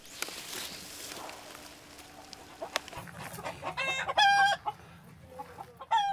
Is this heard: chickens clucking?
yes